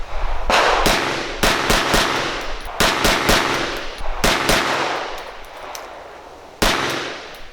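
An AMT AutoMag II .22 Magnum stainless-steel pistol firing about a dozen loud, close shots, some in quick bunches and others spaced apart, each with a short ringing tail, and no talking.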